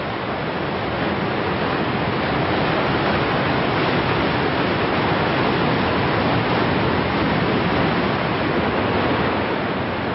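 Niagara Falls in winter roars as a steady, dense wall of falling water, loud and unbroken throughout with no voices.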